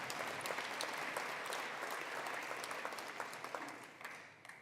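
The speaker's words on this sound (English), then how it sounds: "it's okay, you can clap" Audience applause at a college address, a thick, even wash of many hands clapping that carries on throughout and tapers slightly toward the end.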